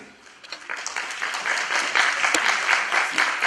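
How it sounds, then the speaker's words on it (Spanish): Welcoming applause from an audience greeting an engineer at a formal session, starting thin and swelling into a full, sustained round of clapping that holds steady to the end. "por favor les pido un aplauso de bienvenida"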